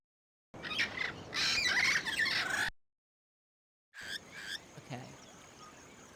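Bird squawking at a nest in a video game, a harsh burst of squawks and clucks, a short silence, then a second fainter, scratchier squawk.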